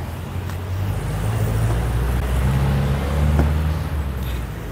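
A Honda Stylo 160 scooter engine starting, running with a low, rumbling idle that rises slightly as it revs, close and steady.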